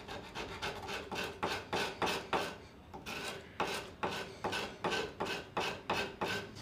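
A hand-pulled V cutter scrapes along the chamfer of a wooden molding in a steady series of close, rasping strokes, roughly two per second, with short gaps between pulls and no voices.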